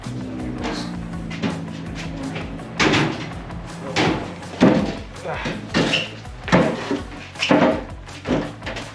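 Drawers being handled in a garage: a series of knocks, bumps and sliding clatters, loudest from about the three-second mark onward, with a low murmur of voice early on.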